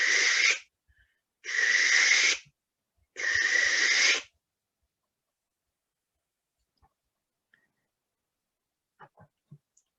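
A human voice imitates a barn owl with three harsh, breathy screeches, each about a second long and evenly spaced, followed by near silence with a few faint clicks.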